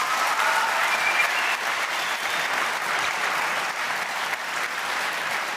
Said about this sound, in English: a massive round of applause, please